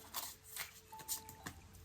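A deck of tarot cards is cut and shuffled by hand, giving a few soft riffling bursts and light papery patter close up.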